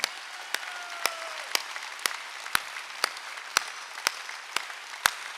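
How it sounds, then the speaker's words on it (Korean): A church congregation claps together in a steady beat, sharp loud claps about twice a second over a quiet room hum. "박수 치려면 세게 치라고."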